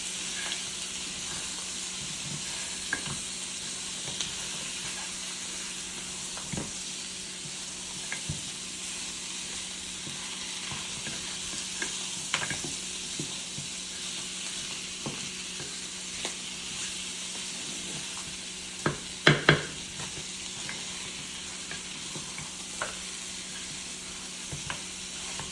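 Pork mechado stirred in a pan as it fries, a steady close sizzle and hiss throughout with occasional clicks and scrapes of the spoon against the pan.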